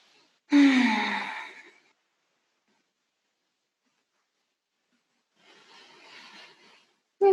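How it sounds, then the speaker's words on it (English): A person takes a deep breath during a gentle yoga banana pose: one loud, close inhale-exhale followed by long silence, then a fainter breath, without talk. "Maybe one more breath here."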